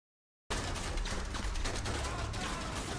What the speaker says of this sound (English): did you see the physics on that nade explosion?